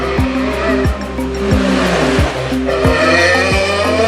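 Rally cars at the Rallye Club 8 Cevennes race past one after another, engines roaring loud and close with repeated downshifts and tire squeal, seen from a balcony facing the course.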